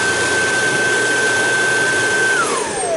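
A Dyson DC22 canister vacuum cleaner runs steadily and loudly close by, a broad whooshing roar with a constant motor whine that drops in pitch near the end, with no talking.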